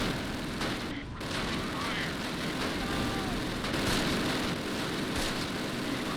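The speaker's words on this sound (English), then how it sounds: "So much MG42 fire." Dense, continuous MG42 machine gun fire and battlefield explosions from the Close Combat war game, a rough crackling roar that stays loud and constant throughout with no talk.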